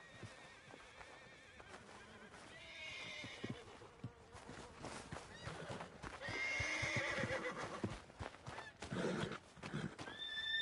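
A horse in Red Dead Redemption 2 whinnies loudly several times while its hooves clop in an uneven rhythm close by, the noise swelling toward the end.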